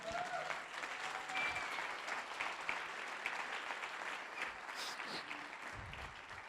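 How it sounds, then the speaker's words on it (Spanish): A church congregation applauds, a steady wash of clapping hands from many people that stays even and moderately distant for several seconds, with no voices standing out. "dar un aplauso al Señor"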